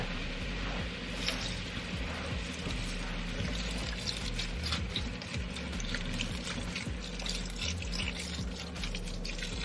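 Vegetable broth pours into a pot of cooking collard greens, a steady close splashing and gurgling stream that runs for several seconds with no talking over it.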